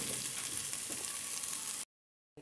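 Sliced onions fry in a pan still holding oil from fried prawns, browning for prawn biryani with a soft, even sizzle. The sizzle stops abruptly into silence near the end.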